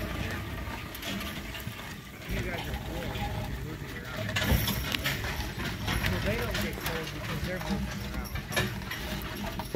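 Horse hooves clip-clop steadily while a horse pulls a sleigh at the ice castles in New Hampshire, with runners and harness rattling beneath, and people talk continuously over the sound.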